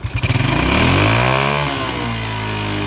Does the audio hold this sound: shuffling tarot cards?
no